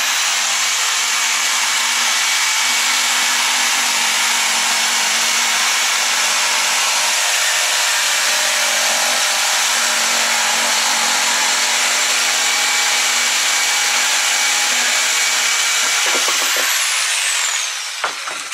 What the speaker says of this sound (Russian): мы лобзик развернем и получим